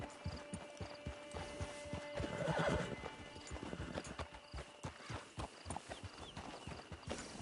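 Rhythmic clip-clop of horse hooves walking steadily in a video game, with a horse neighing and whinnying midway, set against a constant ambient game soundscape.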